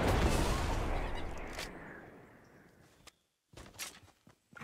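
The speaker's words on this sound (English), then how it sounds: "I hear shots coming from, yeah. Down there." Gunfire in a Fortnite Battle Royale match, a dense burst of shots fading from loud to distant, followed by a few separate sharp cracks after a brief silence.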